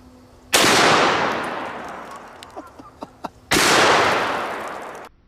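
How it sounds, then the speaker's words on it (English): Two booming shots from a Magnum Research BFR revolver in .500 Magnum, firing Underwood 350-grain jacketed hollow points into a 340-pound atlas stone, each a sharp blast with a long decaying tail, separated by a few small clicks and taps. "Yeah, we did quite a bit of damage with the 500 Magnum."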